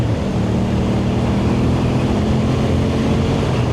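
Suzuki GSX-8R motorcycle engine while riding, a loud continuous drone with steady low harmonic hum mixed with wind rush, unbroken throughout.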